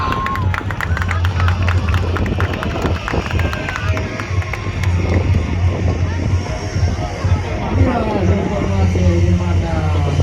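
Spectators at the Black Sea Air Show 2025 applaud and cheer a parachute team, a steady wash of clapping and crowd noise under a loudspeaker announcer's voice, with a low engine drone running beneath.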